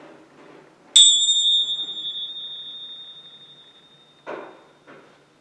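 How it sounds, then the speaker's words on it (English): A single struck mindfulness bell rings out in a quiet room, a bright metallic strike with a long shimmering tone that slowly fades over several seconds, followed by a couple of soft knocks near the end. "I'll ring the bell, and when you don't hear it anymore, that's when you lift your hand."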